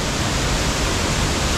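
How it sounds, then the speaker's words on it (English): Steady rushing roar of a waterfall near abandoned mill ruins, a close, continuous broadband wash of falling water with no voices. "that's a really nice waterfall back here"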